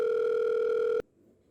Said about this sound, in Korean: 두 번째 사연은 사연자님과의 전화 연결을 통해 들어보겠습니다